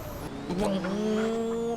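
A turbocharged Toyota Revo pickup engine in GTA San Andreas climbs steadily in pitch as the revs build, a loud continuous whine running close and alone without pause.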